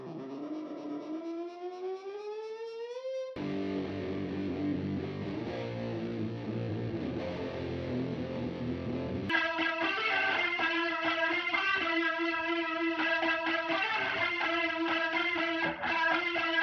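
Guitar tones processed through a modulation filter function build in a rising sweep, then give way to dense, steady distorted chords and sustained effected notes, loud and continuous with no talking.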